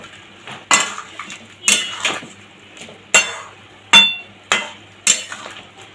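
Fritters dropped into a pot of raw banana dal, a series of about seven sharp metallic clinks and knocks of a utensil against the pot, spaced irregularly and close, with no talking.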